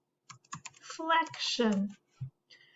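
Computer keyboard keys click close by in short bursts as text is typed, with a voice talking over the middle of the typing.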